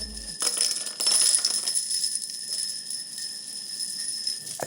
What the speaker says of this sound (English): It's like a big wind chime.